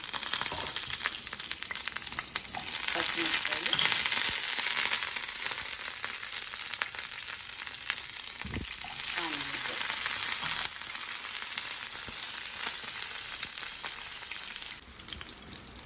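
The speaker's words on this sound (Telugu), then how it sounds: "ఆయిల్ వేసుకున్నాను దీనిలోకి కొద్దిగా జీలకర్ర అలాగే ఆవాలు కరివేపాకు" Steady hissing sizzle of cumin and mustard seeds with curry leaves frying in hot oil, continuous and close, with a few faint crackles and scraping stirs throughout.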